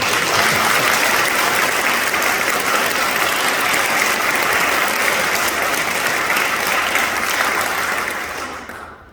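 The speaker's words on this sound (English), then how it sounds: "she deserves a round of applause" A crowd at a Second Amendment bill signing ceremony in the Rhode Island State House gives a sustained round of applause, loud and dense, then tapering off near the end.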